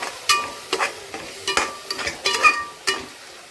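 Masala being sautéed and stirred in oil for a spinach, ridge gourd and chicken dish, with a steady soft sizzle under repeated scraping strokes of a spoon against the pan at an irregular rhythm.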